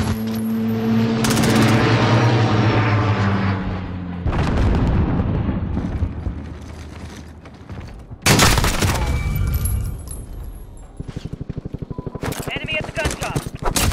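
Call of Duty: Modern Warfare gameplay with an aircraft arriving for an emergency airdrop, heard as loud roaring booms and rumbling amid dense gunfire bursts, while voices call out over the chaos.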